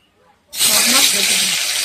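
Bhola fish hitting hot oil in a pan, a sudden loud sizzle that bursts in after a quiet moment and keeps up as a dense, steady crackling hiss.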